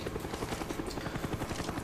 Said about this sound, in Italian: l'elicottero, ragazzi